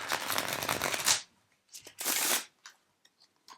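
A full tarot deck is shuffled close up, giving a loud riffling burst of about a second. After a pause comes a second shorter riffle, then scattered soft card taps.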